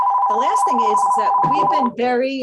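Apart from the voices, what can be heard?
office desk phone ringing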